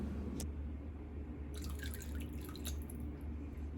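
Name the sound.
water being poured into pie crust dough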